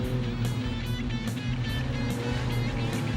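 A speedcar racing around a dirt track near the end of a 50-lap classic, its engine droning loudly and continuously with a steady roar and rhythmic pulsing as it passes close by.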